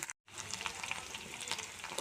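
Okra frying in a pan for a Telugu home-style dish, a soft, steady sizzle with a faint crackle, quiet and close, with a brief dropout near the start.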